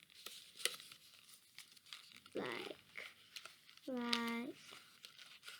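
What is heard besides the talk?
folding paper for a honeycomb beehive craft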